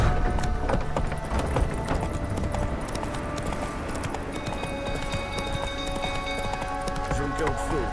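Roach the horse galloping in The Witcher 3, steady rapid hoofbeats on dirt close by, mixed with game ambience, wind and faint tones.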